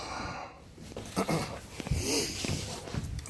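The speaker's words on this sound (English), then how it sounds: "That's my dog." A dog pants and snorts nearby in a noisy room, with rapid, breathy huffs and a faint whimper, no talking.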